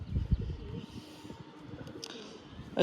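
A pair of short-size Giribaz pigeons cooing, with low, soft coos in a brief burst near the start and faint murmuring after.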